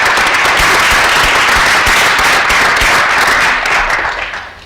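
Audience applauding at a school board of education meeting, a dense steady wash of many hands clapping close and loud, fading slightly near the end.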